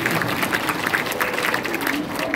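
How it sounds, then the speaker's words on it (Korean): A church congregation at a regular Monday education meeting gives a round of thankful applause, a busy, close crackle of many hands clapping steadily throughout. "좋은 찬양해주신 우리 이용석 목사님들도 감사의 박수를 보내주십니다"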